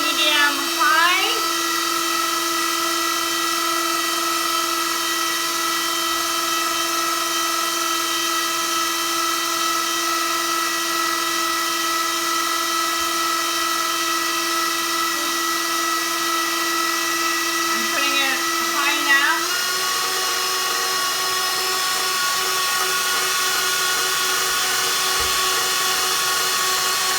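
Steady high whine of a stand mixer whipping macaron meringue at medium-high speed, continuous and close for the whole stretch, with a slight shift in pitch partway through.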